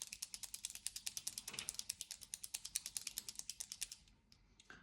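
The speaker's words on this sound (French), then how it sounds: "on entend, hein, il y a les billes dedans pour activer la peinture" An acrylic paint marker shaken hard, its mixing balls rattling inside in a fast, regular train of sharp clicks, close and alone, stopping briefly near the end.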